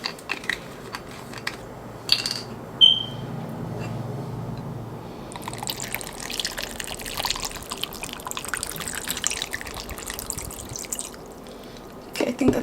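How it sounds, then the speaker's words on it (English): Coconut water poured over a bowl of nature's cereal with pomegranate, then shaken, giving soft trickling, dripping and sloshing that runs steadily through most of the clip, close and fairly quiet. "we're gonna go ahead and add some coconut water. So I'm just gonna shake this a little bit."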